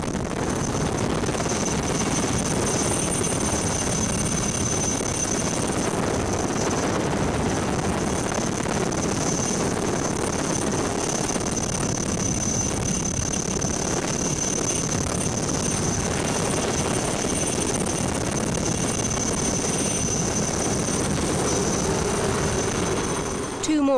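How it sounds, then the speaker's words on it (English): A helicopter holds a hover in strong winds high on Mont Blanc during an alpine rescue, its rotor and engine noise a loud, continuous, wind-buffeted roar throughout with no pauses. "The helicopter can't land because of the strong winds."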